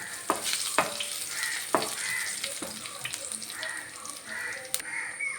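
Sliced onion frying in oil with broken dried red chillies and curry leaves added, for a Kerala breadfruit curry: a steady sizzle with a few sharp clinks of a stirring spoon against the pan, close and moderately loud, no talk.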